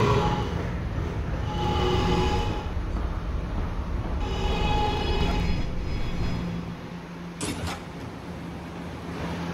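An R211A R train runs along a New York subway line in a Roblox game, giving a steady, loud rolling rumble with shifting hiss and a brief sharp high squeal near the end.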